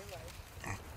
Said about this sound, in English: Kayla Miller and her family keep a farm raising various poultry, fowl, goats, and a pig in nearby Negley, just about 10 minutes south of town.